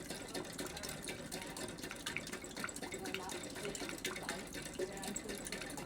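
A Heinrici hot air stationary engine fitted with new cooling pipes pumps water in a steady, continuous run, its rhythmic mechanical chatter and splashing flow sounding close and even throughout.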